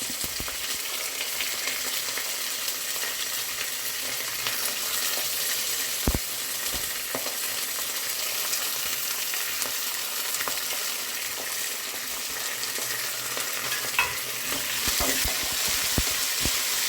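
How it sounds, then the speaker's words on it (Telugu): Urad dal and peanuts frying together in a pan, giving a continuous close, loud sizzle with occasional stirring scrapes and light clicks as the pieces are moved about. "పల్లీలు కూడా ఫ్రై అయ్యేటట్టు ఫస్ట్ పప్పుతో వేసినట్టయితే ఫ్రై అయిపోతాయి ఈజీగా"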